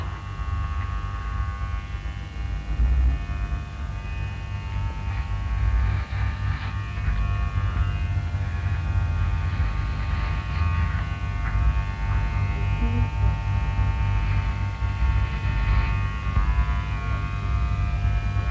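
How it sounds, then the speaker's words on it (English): A Breville electric beard trimmer fitted with a guide comb cuts a man's beard, giving a continuous close electric buzz and hum whose loudness shifts slightly as it moves through the hair. "Beard trimming so easy when you use your guides."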